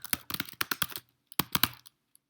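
Typing on a computer keyboard, a close burst of rapid clicky keystrokes, a brief pause, then a shorter second burst and a single faint tap.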